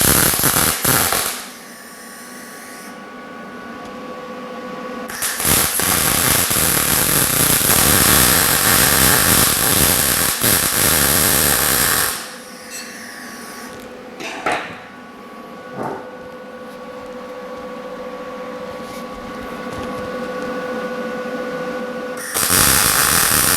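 A MIG welder crackles and buzzes as a nut is welded onto a broken exhaust header stud, in two long sustained bursts separated by a short pause, close and steady.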